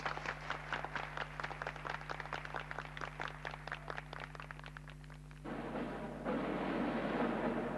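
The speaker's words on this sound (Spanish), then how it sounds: "Un aplauso para él." At a magic show, an audience claps in a quick, rhythmic, fairly regular beat for several seconds, then the clapping gives way to a steadier, denser wash of sound near the end.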